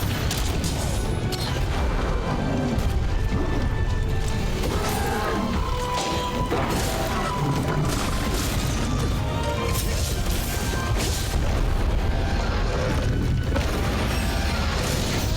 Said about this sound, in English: This is like the freest wallbang ever.